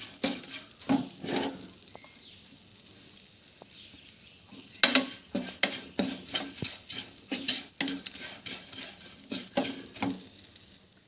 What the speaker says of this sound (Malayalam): ഇളക്കിക്കൊണ്ട് ഇരിക്കുക ഇതേ രീതിയിൽ ചൂടാക്കുക കുറേ നേരം നമ്മൾ ഇളക്കിക്കൊണ്ടിരുന്നാൽ നമ്മുടെ സവാള മൊരിഞ്ഞു വരും